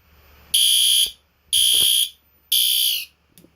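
Fire alarm under test giving three loud, shrill electronic blasts of about half a second each, evenly spaced a second apart, with faint handling noise in the gaps.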